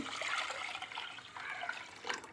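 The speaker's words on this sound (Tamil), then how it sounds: "இதில் 1 கிளாஸு குதிரைவாலி அரிசி எடுத்ததுக்கு 5 கிளாஸ் தண்ணி ஊற்றணும்" Water is poured into a cooking pot for kodo millet rice porridge, a splashing, gurgling rush that rises and falls unevenly over a couple of seconds, fairly soft and with no talking.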